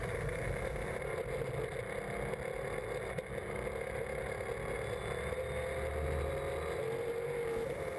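Cross-country race car driven flat out through trees at Bovington, a steady distant engine drone that holds its pitch and rises a little toward the end, with no voices.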